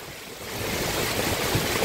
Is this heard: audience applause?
no